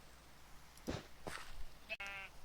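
Sheep bleat twice in a video game with thin, wavering calls over a faint steady background hum, followed by a short higher bleat.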